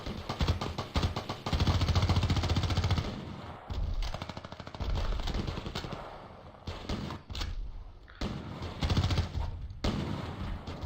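Gunfire in the video game Battlefield Play4Free: rapid automatic bursts and single shots in loud clusters separated by short gaps, close and punchy throughout.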